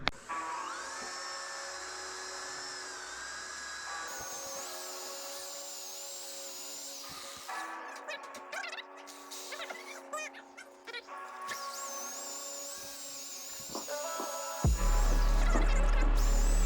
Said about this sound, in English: I'm gonna be attacking it using this bristle brush, metal wire brush on a drill, corded drill